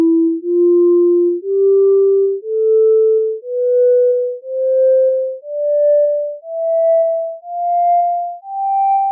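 A sequence of nine low-octave piano notes synthesized from pure sine waves, each a clean sustained tone stepping upward in pitch with a steady, evenly spaced rhythm and brief gaps between them.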